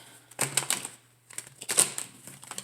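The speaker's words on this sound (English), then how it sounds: "One more shuffle." Tarot cards shuffled by hand in two short bursts of crisp, papery riffling with a pause between, close and moderately loud, no talking.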